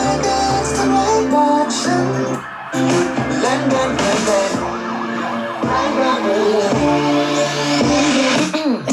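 A song plays from a phone through Spotify on a Mi Smart Speaker, loud and continuous music with steady melody and beat filling the room.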